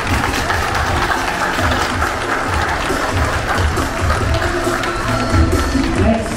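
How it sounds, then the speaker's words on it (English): An audience at a hotel's Chinese New Year food preview event gives a steady, sustained round of applause, dense clapping filling the room throughout. "Your exceptional performance and contribution merit a resounding round of applause."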